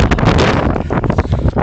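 Strong wind buffets the microphone outdoors in a loud, continuous roar with gusty surges throughout.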